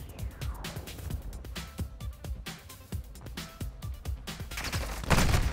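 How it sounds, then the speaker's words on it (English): Gunfire and explosions in a Call of Duty match during a friendly mortar strike: dense, rapid bursts of shots crackle throughout, ending with a louder blast near the close. "Friendly mortar strike on the way."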